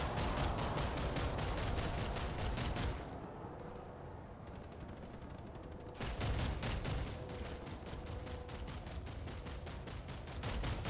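TMG-50 machine gun in PlanetSide 2 firing sustained rapid bursts, dense and continuous with a short pause midway, loud and close in the game's battle soundscape.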